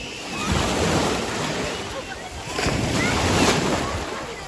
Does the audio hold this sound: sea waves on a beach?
yes